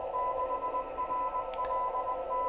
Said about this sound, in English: you can hear the ident from the local repeater in the background.